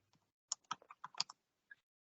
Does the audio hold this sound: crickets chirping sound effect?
no